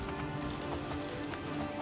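Steady clip-clop of horse hooves galloping in the fantasy role-playing game Elder Scrolls IV: Oblivion, a quick even rhythm of hoofbeats at moderate volume with game ambience beneath.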